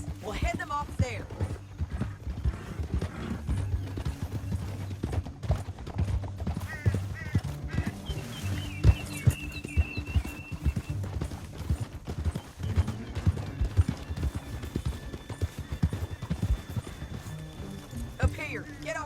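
Horse hooves clip-clop in Red Dead Redemption 2, a continuous run of hoofbeats with snorts and a whinny, while characters talk over the riding and low game music plays underneath.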